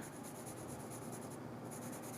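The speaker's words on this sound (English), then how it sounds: "And now I will use the Faber-Castell pencil." A Faber-Castell graphite pencil moving across textured drawing paper in steady, continuous scratchy strokes, close and quiet, with a short lighter pause partway through, heard alone.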